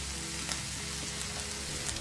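Onions fry in a pan over medium heat in vegetable oil and knobs of butter, a steady, faint crackling sizzle with no speech.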